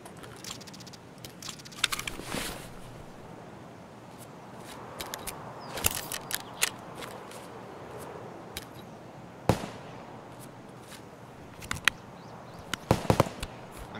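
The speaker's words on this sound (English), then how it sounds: "The scavs are shooting at somebody again" Scattered gunshots from AI scavs in a first-person shooter game, sharp isolated cracks and short double bursts at irregular intervals, distant to mid-range, over a low steady background hiss.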